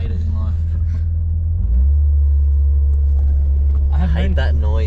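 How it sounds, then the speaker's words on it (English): An RB30-engined VL Commodore idles with a deep, loud exhaust rumble that steps up and grows heavier partway through, while someone talks over it near the end. "I hate that noise. I just want it to be really quiet. The exhaust noise."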